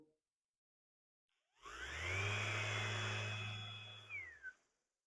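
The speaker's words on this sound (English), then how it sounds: "Actually, probably one of the quieter sanders I've ever had." A MAXXT 6-inch random orbit sander spins up from silence and runs at low then medium speed, a close, steady whirring hum that rises slightly in pitch before braking to a stop.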